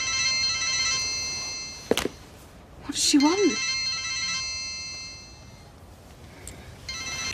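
A telephone rings with a steady electronic trill that stops and resumes, with a thunk and people talking over it in a domestic scene.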